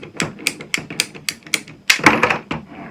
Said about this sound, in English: I'm gonna cut a piece so I can show you how it works. So let's cut this piece.